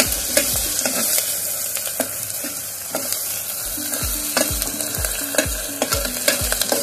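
Curry leaves stirred through hot oil for Mumbai-style pav bhaji, a steady sizzle and crackle with repeated scraping strokes of a spoon against the pan, close and continuous with no talk.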